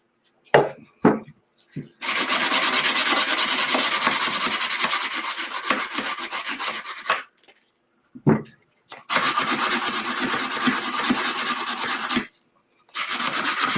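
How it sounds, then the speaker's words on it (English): Coarse sandpaper rubbing steadily along the edges of a wooden drop-in box frame in two long bursts, preceded by a few short scrapes, with brief pauses between. "I'm going to really sand it down."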